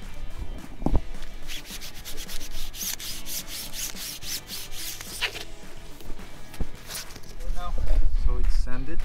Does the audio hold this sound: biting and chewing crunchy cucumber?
no